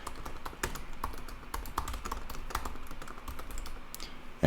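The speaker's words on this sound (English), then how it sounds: "So we can begin typing." Typing on a computer keyboard, with a steady run of close, crisp key clicks at an even rhythm and no voices.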